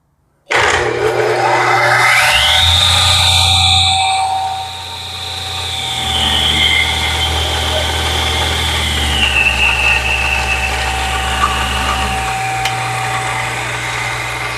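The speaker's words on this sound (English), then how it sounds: "you only change speeds while the motor is running, because this has a Reeves drive on it" A restored Sawsmith radial arm saw motor with a Reeves variable-speed drive runs up loudly and steadily, its pitch rising then settling and shifting as the speed is changed, with no talking.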